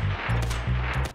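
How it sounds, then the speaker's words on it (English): Several unsuppressed gunshots from Escape from Tarkov crack out in a quick uneven burst of four or five loud reports, each with a short low boom and bright tail, with no talk. "Noises as simple as unsuppressed gunshots"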